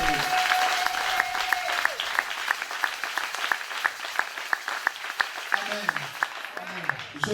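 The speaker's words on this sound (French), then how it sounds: "Est-ce que de nouveau, on peut donner à ce Dieu des acclamations qu'il mérite?" Applause and rhythmic clapping from a congregation during a Sunday church service, sustained and fairly close for the whole stretch, with crisp regular claps and voices calling out beneath.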